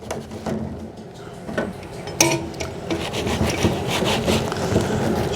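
A plastic scrubby rubs and rasps against a cast iron Dutch oven, close and fairly loud, in continuous scraping strokes with a sharper clank partway through.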